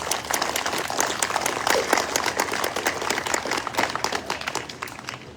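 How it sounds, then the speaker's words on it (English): A crowd applauds the candidates at a judicial debate steadily for several seconds, a dense patter of many hands clapping that fades slightly toward the end. "Can we have a round of applause for all of our candidates tonight?"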